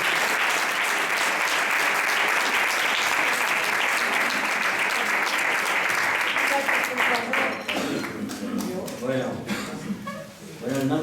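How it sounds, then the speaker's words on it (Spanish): Loud, dense applause from a large audience at a fandango festival evening in Villanueva de las Cruces, Huelva, sustained for several seconds before thinning out, with voices and a few chuckles emerging at the end. "pido un fuerte aplauso para todos los presentes,"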